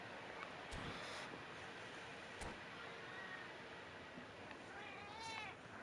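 A cat lets out a couple of short, faint meows over a steady background hiss, with a few sharp clicks in between.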